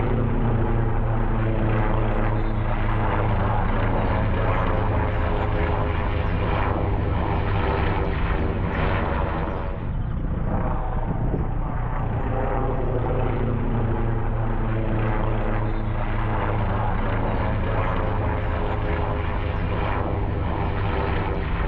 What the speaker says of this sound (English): call in the services of my mate in a helicopter